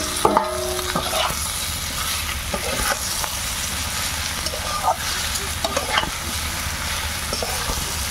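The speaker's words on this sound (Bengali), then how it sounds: "বাকি সবজিগুলো আমরা দিয়ে দিচ্ছি।" Vegetables for a village-style Bengali labra sizzle steadily over low heat in a pan while being stirred, with scraping strokes cutting through a constant loud frying hiss.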